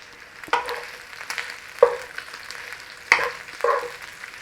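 Cumberland sausage and potato hash crisping in a hot pan, a steady sizzle broken by several sharp scrapes and turns of the spatula, close and moderately loud.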